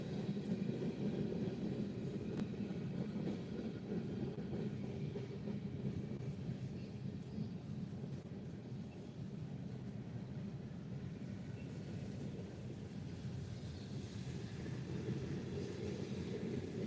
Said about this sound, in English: This is a 3 locomotive manifest.